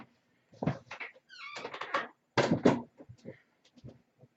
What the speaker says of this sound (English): I'm just gonna shut my door.